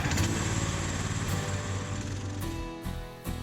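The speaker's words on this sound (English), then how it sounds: "start the machine and allow the engine to warm up for a minute" Titan Pro Grizzly 15HP stump grinder engine running steadily at full power with its cutting teeth lifted off the ground, a loud continuous drone with a brief dip in level near the end.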